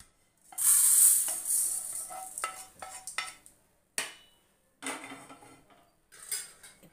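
Fried moong dal is scraped from a pan into a bowl with a metal spoon. Close, loud scrapes and clinks come in separate bursts with short silences between them, and no one speaks.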